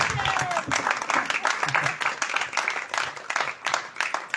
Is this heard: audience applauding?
yes